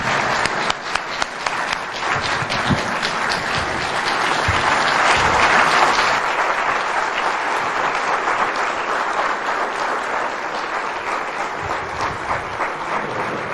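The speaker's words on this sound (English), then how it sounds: "let's just give him another round of applause, ladies and gentlemen" Sustained audience applause after a speech by Kenya's president in Nairobi, dense steady clapping from a large crowd that rises slightly mid-way and continues evenly.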